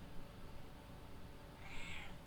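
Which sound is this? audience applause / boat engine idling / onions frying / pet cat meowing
pet cat meowing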